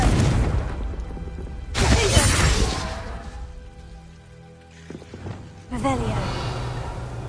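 A Confringo fire spell explodes in Hogwarts Legacy, a loud crackling burst followed by fizzing debris, then a second burst later, with a voice speaking in between.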